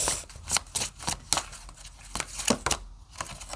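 Cards drawn from a tarot-style deck and laid down, giving a run of crisp, close snaps and papery flicks at an irregular pace, with faint rustling in between.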